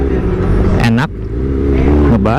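A motorcycle fitted with a Pro Speed Black Shark silencer: a loud, deep exhaust drone with two quick rising revs, heard up close while riding.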